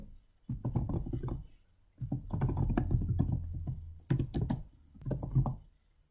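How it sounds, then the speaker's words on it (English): Someone types an email address on a computer keyboard, with bursts of rapid, close keystrokes in three runs separated by brief pauses, clear and dry with no speech. "And once I've typed in my email address,"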